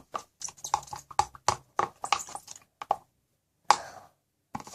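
Slime being shaken inside a closed container, giving a rapid series of close, loud knocking and sloshing bursts, then a pause and two more sharp thumps.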